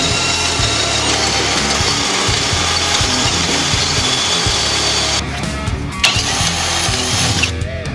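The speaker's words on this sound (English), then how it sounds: "since this is a two-speed electric drill, I'll just put it in its lower speed range" A two-speed electric power drill in its low speed range grinds steadily through material with a half-inch bit, loud and close, with a brief drop in the noise near the end before it bites again.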